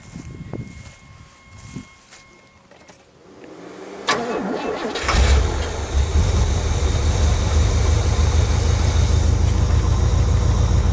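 A 1986 Oldsmobile Cutlass, revived after five years with fuel fed to the carburetor, gives some faint clicks and brief cranking. It then fires with a sharp catch and settles into a loud, steady, continuous run close by.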